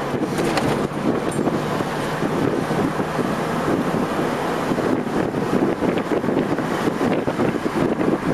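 Steady loud wind roars past the microphone throughout a ride in a Mini Cooper, a constant broadband rush with no voices.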